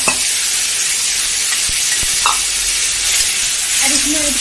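Onions and tomatoes fry in a pan on a home stove, giving a steady, loud sizzling hiss that continues evenly throughout with no talking.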